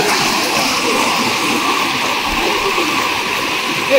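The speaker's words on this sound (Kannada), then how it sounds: "ಸ್ವಲ್ಪ ನಿಧಾನವಾಗಿ ಹರಿತಾ ಇದೆ ನೀರು" River water near Hebri runs slowly and steadily, a close, continuous rushing wash with light splashing and gurgling throughout, and no voices.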